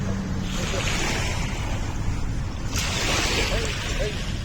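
Steady roaring surf at Dolomite Beach, Manila, with gusty wind noise, waves washing continuously, while voices can be heard faintly in the mix.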